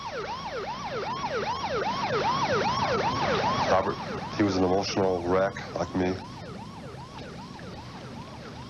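Emergency vehicle sirens wail at a rescue scene with a helicopter landing zone set up at a ball field, a loud, rapidly cycling yelp that runs throughout while someone talks over it.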